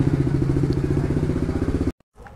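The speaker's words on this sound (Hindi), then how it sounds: "अपनी बाइक को साइड में कहीं लगा देता हूँ मैं।" A Bajaj Pulsar RS 200 motorcycle idles close by with a steady rumbling thump while being moved to park, then the engine cuts off abruptly, leaving near silence.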